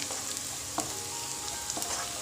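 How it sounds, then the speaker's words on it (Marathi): Chicken sautés in a pan for butter garlic chicken, a soft, steady sizzle with a couple of brief stirring clicks over a short stretch. "आता हे छान परतून घ्यायचं आपल्याला"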